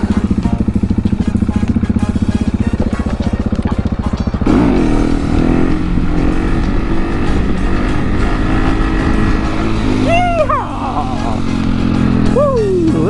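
A supermoto motorcycle engine runs loud and close, revving hard through pitch sweeps as the bike gets ridden, with a voice talking over it in places.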